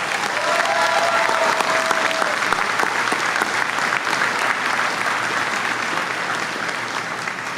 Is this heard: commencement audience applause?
yes